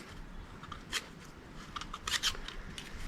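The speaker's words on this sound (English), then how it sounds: "Let's cut this just a little bit with this tin snip." Tin snips cut at a rusty lock in a few short, crisp metallic snips and scrapes, with quiet handling noise between them and no talk.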